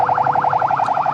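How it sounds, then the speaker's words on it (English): A Ghana Police Service patrol siren wails close and loud in a fast, regular warbling cycle that holds steady throughout, with no voices over it. "The siren you heard behind me are personnel of the Ghana Police Service who have been patrolling the area"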